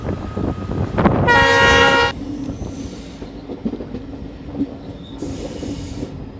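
A passenger train hauled by a WDM4D diesel locomotive picks up speed on the Malda–Balurghat line, a loud, sustained horn blast near the start giving way to a steady rumbling roll of wheels and engine, with a brief higher tone later.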